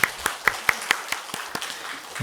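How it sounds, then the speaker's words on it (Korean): A church congregation claps in unison during a Sunday worship service, sharp, evenly spaced claps at a quick steady beat that soften slightly as they go on. "박수로서 하나님께 영광을 올려드리겠습니다."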